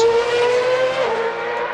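A 2009 F1 race car engine in a racing sim video game, heard as one loud, sustained high-pitched engine whine that drops slightly in pitch near the end, alone.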